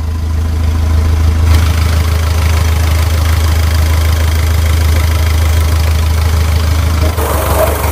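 Rebuilt Mitsubishi Strada Triton engine idling close by, a loud, steady low drone with a fast rhythmic knock, running alone without talk.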